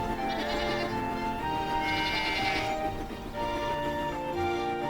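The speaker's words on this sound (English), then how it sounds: "There are farms with goats." Cartoon goats on a farm bleat repeatedly in wavering calls over a steady background bed of music, with no speech.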